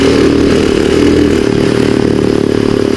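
Motorcycle riding along a road on a chill ride through Marilaque, its steady engine drone and road rumble loud and close throughout, with no talking.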